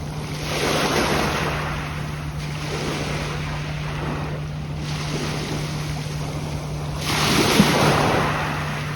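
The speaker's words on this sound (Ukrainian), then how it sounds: "Ой, дивіться, он там катер їде." Wind and sea waves wash over the scene with a steady low engine hum from a passing motorboat, rising briefly near the end.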